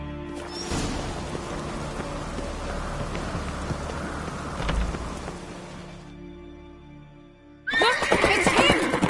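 A horse whinnies amid rainfall and hoofbeats in the video game The Witcher 3, followed by a brief pause and then a burst of sharp, high neighing.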